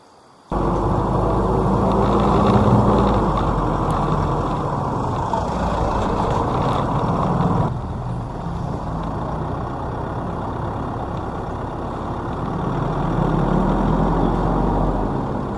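An off-road vehicle on Delium MT Terra Raider tires, inflated to 35 psi, drives on asphalt. Loud, steady engine and tire drone starts abruptly and continues, briefly easing around the middle and swelling again later, with no voices.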